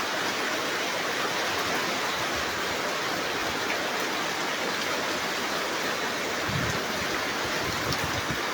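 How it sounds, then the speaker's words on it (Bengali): Heavy rain pours down steadily, a dense, constant hiss and patter that fills the whole scene without letting up, close and loud throughout. "ওয়াও, কি বৃষ্টি রে বৃষ্টি"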